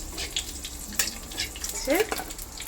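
Whole cumin seeds, a dried red chilli and a pinch of ground cumin crackle in hot oil for a tempering, a close hiss with sharp pops and brief scraping, and a voice surfaces faintly for a moment.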